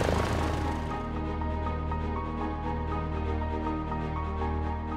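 Cessna 172R piston engine running up inside the A2A Accu-Sim flight simulator, a steady, loud propeller drone with a rich harmonic hum that holds even throughout, with no talk over it.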